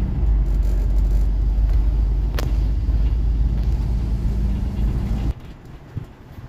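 A car drives through the streets of Pattaya, heard from inside. A steady, loud low rumble holds for several seconds, then drops off sharply near the end to a quieter hum.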